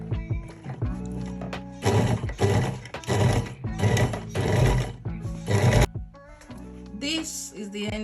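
A sewing machine stitches a cargo pocket seam down to the end in several loud, close bursts of rapid mechanical whirring, separated by brief pauses and clicks.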